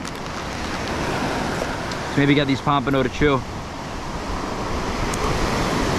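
Continuous ocean surf washing onto a fishing beach, a broad steady roar of breaking waves and wind, with someone briefly speaking over it midway.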